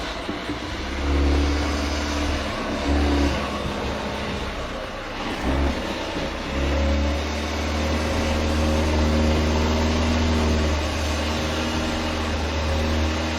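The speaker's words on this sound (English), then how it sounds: "Volvo makes a good pace from the very start and easily copes with the first obstacle." A Volvo SUV on winter tyres climbs an off-road course and crosses its first obstacle, its engine giving a steady, loud low drone that surges briefly and then holds, close by throughout.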